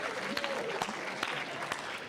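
Church congregation clapping after an offertory song, a short burst of scattered applause from a modest crowd, moderately loud and steady.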